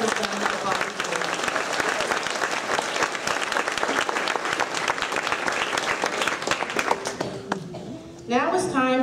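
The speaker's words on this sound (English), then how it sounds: "let's give Mrs. Casey a round of applause for all that she has done" Audience at an elementary school sixth grade ceremony applauds a teacher, loud sustained clapping that fades near the end as a voice begins speaking.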